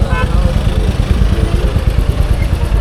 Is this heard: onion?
no